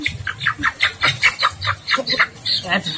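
Chickens clucking close by in a rhythmic series of short, bright calls mixed with voices, as people handle the birds in an Indonesian comedy scene.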